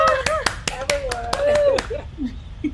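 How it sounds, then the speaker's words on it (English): A group claps and whoops, with quick sharp hand claps in a steady burst and a rising cheer, close and loud, fading out near the end. "Can we just make noise? I want to just clap and woo!"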